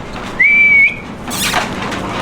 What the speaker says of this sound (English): So when he hears that whistle, he knows he's about to get something